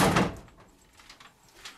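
A door bangs open with a single loud thunk at the start, followed by faint shuffling and room noise.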